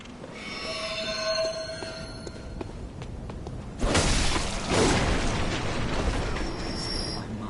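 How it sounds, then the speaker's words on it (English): In the Bloodborne video game, a sword lights up with a metallic ringing shimmer of high tones, followed by a loud whooshing, crackling surge that sustains at moderate volume, with no talking. "That is such a cool noise when that sword lights up"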